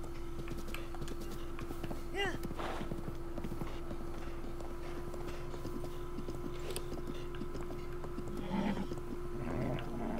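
Horse hooves clop in a video game as the rider travels slowly toward Kakariko Village, a loose rhythmic patter of steps under a steady background hum.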